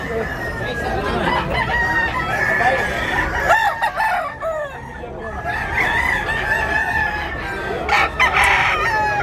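A young stag rooster crows loudly and close at a gamefowl market in Talisay, Cebu, with long drawn-out calls repeated across the clip and clucking fowl in the background.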